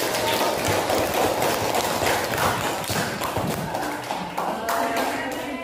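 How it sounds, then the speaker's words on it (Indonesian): A group claps its hands for a while in a classroom or meeting setting after a learning video is shown, a steady, dense patter of applause throughout. "Tepuk tangan."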